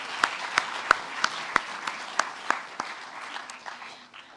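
A small crowd at a university chapel service claps with distinct individual claps standing out, fading gradually toward the end.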